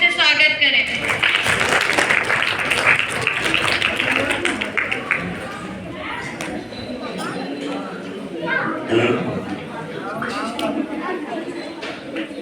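An audience at a Republic Day function claps to welcome two singers, a steady wash of applause mixed with crowd chatter, with a voice speaking over it.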